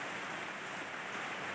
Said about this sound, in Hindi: और बाहर बारिश भी आ रही है